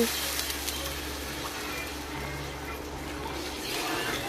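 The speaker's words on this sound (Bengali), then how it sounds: "এই যে দেখুন এইভাবে কষে নিতে হবে" Food sautéing in a pan while making muri ghonto, a steady broadband sizzle with low hum underneath, continuous and moderately loud throughout.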